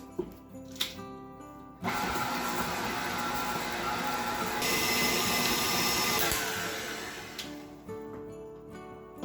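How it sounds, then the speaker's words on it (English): A stand mixer fitted with a paddle attachment stirs vegan cheesecake filling, letting out a loud, steady motor whir that kicks in abruptly, runs for several seconds and then cuts off, with no voices over it. "we're going to give it a bit of a stir to combine those together with the paddle attachment on the stand mixer"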